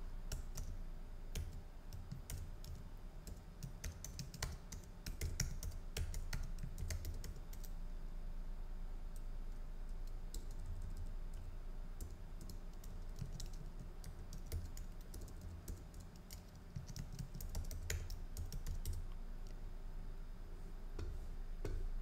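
Fast, continuous typing on a computer keyboard, close and fairly quiet, with dense key clicks and brief pauses, no voices.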